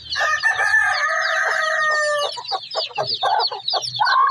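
A rooster crows loudly nearby, followed by a hen's clucks mixed with a rapid stream of high peeps from her newly hatched chicks.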